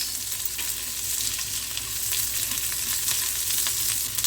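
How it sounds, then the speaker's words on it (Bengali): Onion frying with green chillies in a pan for a green tomato curry gives a steady, close sizzle with occasional stirring scrapes, continuous and fairly loud with no talking. "পেঁয়াজটা আমাদের একটু ভাজতে হবে"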